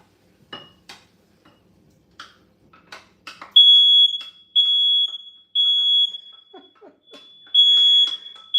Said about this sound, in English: Let me turn my fire alarm off.